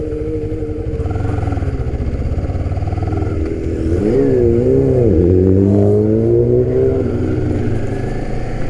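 A used 250cc two-cylinder motorcycle engine runs steadily up close, its loud idle rising into throttle blips with a rough, clattering mechanical edge, with no talking.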